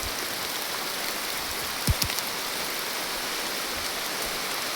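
Heavy monsoon rain falling in a steady, dense hiss that fills the whole scene, with a brief faint knock near the middle and no voices.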